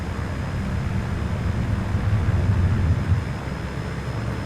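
Simulated aircraft engine during a takeoff roll at three-quarter throttle with slats set, a steady low drone under light wind noise, constant and fairly loud, with no speech.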